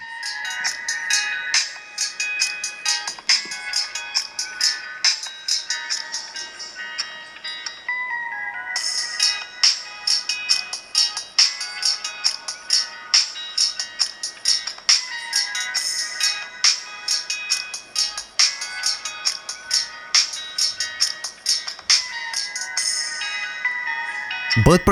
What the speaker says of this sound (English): you can actually play the audio through the smartwatch, and let's check out the sound quality